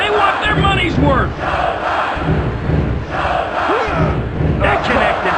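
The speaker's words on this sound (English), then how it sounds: "Check out this crowd! They're on their feet!" In the WWF Attitude wrestling video game, an arena crowd roars and chants in loud, rhythmic surges that swell and dip over several seconds.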